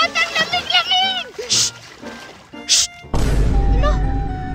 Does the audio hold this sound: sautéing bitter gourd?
no